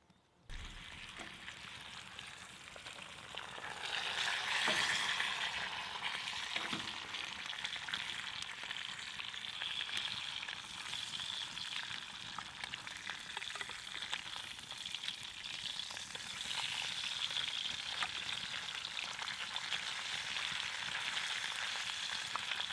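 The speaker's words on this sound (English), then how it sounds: "How's that for a slab of bacon?" A slab of bacon frying in a pan at an early-season camp on a crown land island, a dense steady hiss and crackle that swells up after the first few seconds and carries on loudly and evenly, no talking.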